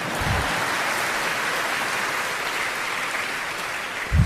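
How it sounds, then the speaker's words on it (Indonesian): Sustained audience applause in a university hall at a Ramadan campus event, a dense even wash of clapping lasting several seconds, with brief low thumps at the start and end. "Boleh tepuk tangan."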